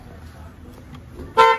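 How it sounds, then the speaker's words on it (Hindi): A short, bright honk of a toy horn sounds at the end, after a stretch of low, muffled background noise. "ये तो अमल का हॉर्न बन गया।"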